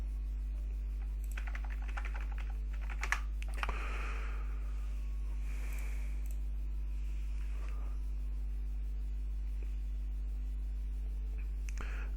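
Quiet typing on a computer keyboard: a few soft, scattered key clicks over a steady low hum, with no voices.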